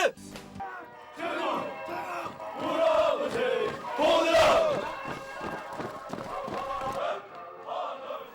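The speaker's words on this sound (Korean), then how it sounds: "전방에 울리는 함성으로 하루가 시작이 되고" Army soldiers in barracks shout in unison to begin the day, a series of strong rhythmic group chants with brief pauses between phrases, loud and close, echoing slightly.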